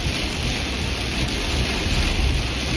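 Steady, loud rain drums on the windows of a car during a thunderstorm near Elk Point, a dense continuous wash of sound with low rumbling underneath and no talking.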